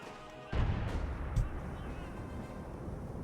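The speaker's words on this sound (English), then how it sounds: "That's artillery." Artillery fire in the strategy game Company of Heroes 2: a sudden heavy blast followed by a second thump, with a low rumbling battlefield din continuing underneath.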